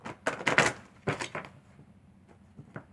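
Deck of cards being shuffled by hand, a few quick riffling and tapping bursts close by, loudest at the start and then trailing into lighter, scattered clicks.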